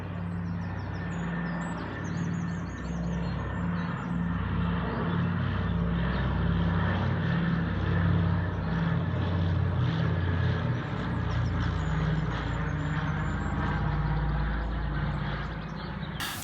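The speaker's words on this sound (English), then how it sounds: "Check out this thing coming into land now behind me. It's like a old anti-submarine plane." An old anti-submarine propeller plane comes in to land, a steady droning engine roar with pulsing low throb, fairly loud and sustained without talk.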